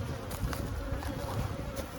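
A honeybee colony hums inside an opened hive, a dense, steady buzz of many bees that holds at an even level for about two seconds with no voices.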